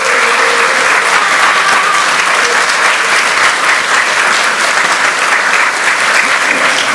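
Loud, dense applause fills a party caucus assembly electing National Assembly speaker candidates, a continuous wash of many hands clapping at once without pause, close and full.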